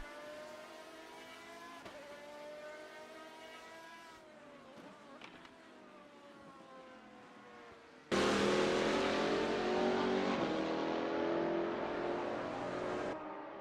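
GT race cars from the GT Legends class race along the Kemmel Straight at Spa in Assetto Corsa, their engines droning with sustained harmonic whine, then a louder, nearer car roars in at full throttle and holds a strong high-pitched note.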